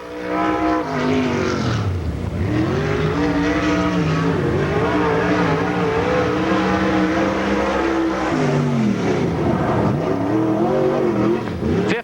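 A stock race car, the number 40 car, lapping Challenger Raceway with a loud, sustained engine roar that holds steady, dips briefly as it lifts off the throttle, then climbs again before easing near the end.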